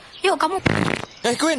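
A fart sound effect sits between two bursts of nearby chatter, a broad spluttering blast of about half a second with rapid ragged pulses, loud and close, with talking on both sides of it.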